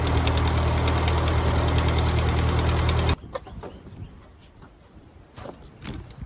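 A Ford 8N tractor engine, just fitted with a new gas tank, runs loud and steady for about three seconds with a dense rhythmic knock, then cuts off abruptly, leaving faint rustles and small knocks.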